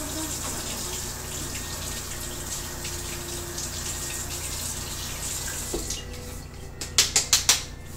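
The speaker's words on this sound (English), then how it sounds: "I'm going to go ahead and run it under some cold water" Cold water runs steadily from a tap over a PVC sword blade, a constant hiss for most of the stretch, then the flow stops and a few short splashes and drips follow near the end.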